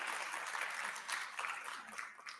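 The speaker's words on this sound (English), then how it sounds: "Yeah, applause for that." Audience applause at an International Women's Day event, a dense, steady wash of many hands clapping from a crowd, continuous and fairly distant with no speech over it.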